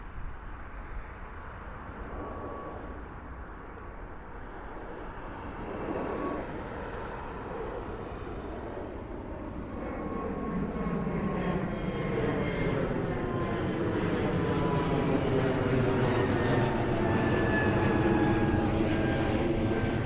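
Fixed-wing airliner climbing out near Toronto Pearson airport on a cold day, its engine roar swelling steadily from a distant rumble to a loud, sustained drone with a whining tone over twenty seconds.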